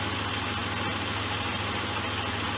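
A Jeep engine idles steadily throughout, a continuous low rumble with a mid-range hum and faint vibration, fairly close and with no talking over it.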